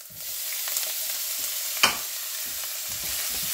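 Garlic and pork hit hot vegetable oil for fried rice, producing a loud, constant close-up sizzle with a single sharp metallic clink of a utensil partway through.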